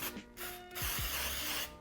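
Cooking spray hisses from a can onto a waffle iron in close, loud bursts, with brief mechanical clicks from the nozzle between sprays.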